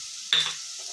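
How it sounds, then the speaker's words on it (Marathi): Onion with chili and garlic paste for a chutney hits hot oil in a sudden sharp sizzle that flares up and quickly settles into a quiet hiss, very short and close. "आता हा चांगला फ्राय करून घेऊ आपण."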